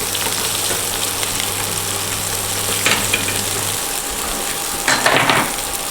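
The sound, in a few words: chopped onions frying in a pan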